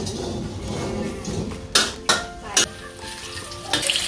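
Sesbania flowers and egg stir-fried in a hot pan, a loud steady sizzle punctuated by several sharp metallic clanks of a spatula against the wok.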